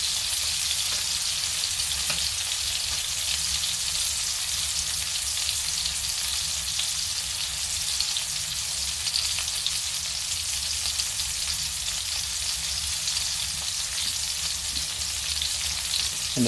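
Pineapple cooking alongside ribeye steaks gives off a steady, loud, even sizzle that runs unbroken throughout, with no voices.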